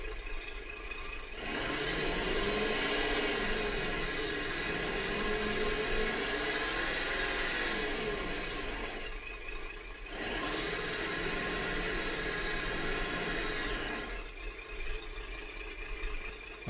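Electric motor of a Tamiya Scania 6x4 RC dump truck runs in two steady whirring bursts, the first about seven seconds and the second about four, separated by a brief drop, close and fairly loud with no talk.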